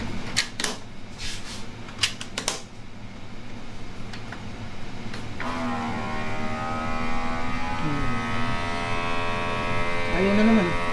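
A vacuum sealer seals hotdog packaging with a steady mechanical hum and whine that builds and holds after some sharp clicks and taps, and a voice briefly cuts through near the end.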